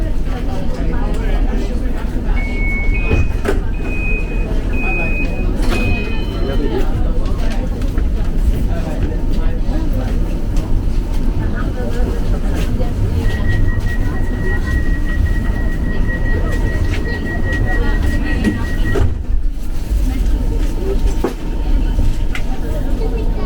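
Steady low rumble of a West Bromwich tram bound for Wolverhampton St George's rolling along rails, with brief electronic tones and a sustained whine over the continuous running noise.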